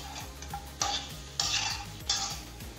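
Chicken frying in a pan for Andhra chicken fry, with a steady sizzle and a utensil stirring and scraping against the pan, sharp clanks recurring every half second or so.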